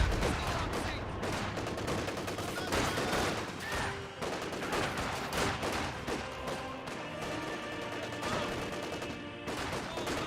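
Sustained MG42 machine gun bursts and scattered gunfire echo through a Company of Heroes 2 battle, dense and continuous over the full stretch with crackling rapid shots layered on one another.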